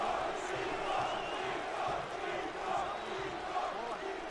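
Dense, steady roar of an arena crowd cheering during a fight in the video game UFC 2, a constant wash of noise throughout with no clear peaks.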